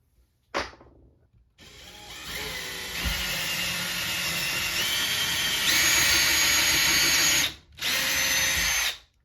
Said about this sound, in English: So I'm using a 5/32 drill bit